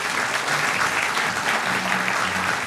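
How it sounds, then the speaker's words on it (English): A loud, dense round of applause from a debate-night audience welcoming the debaters to the stage, steady clapping from many hands filling the whole moment. "Round of applause, please."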